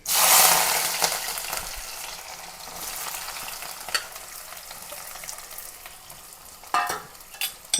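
Sliced onion hitting hot oil in a pan with fenugreek seeds, a loud burst of sizzling that settles into steady frying with a few stirring knocks, no talk.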